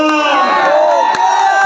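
A live audience at a Makara Sankranti stage show in Bijapur cheers and applauds loudly and continuously, with shouts and whistles blending into a dense crowd roar.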